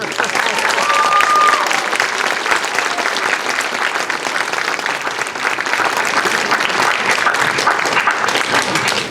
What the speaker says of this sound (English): 8th graders, give them a round of applause.